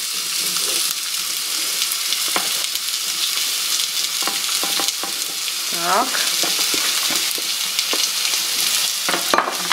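Food fries in a frying pan on a home stove, a steady bright sizzle with scraping stirs from a spatula, and a brief spoken word from a woman near the start.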